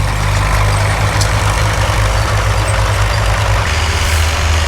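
A tractor pulling plows at a fall plow day rumbles with a loud, steady low engine drone, the pitch and texture changing slightly near the end as it shifts into a higher gear; no one speaks.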